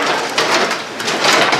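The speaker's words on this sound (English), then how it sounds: "It's hailing outside." Hail pelts down outside during a Lubbock hailstorm, a dense continuous roar of hard impacts with sharper clattering bursts, loud and close, no voices.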